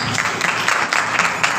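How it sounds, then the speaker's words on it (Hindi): Brief clapping from a church congregation during a sermon: a short burst of applause with uneven, pulsing claps. "तालियां कम है इस बात के लिए, तालियां।"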